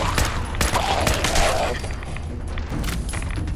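Gunfire rings out during a Fallout 4 firefight against a group of enemies, a rapid run of sharp shots and thuds close up, dense at first and then thinning into scattered reports.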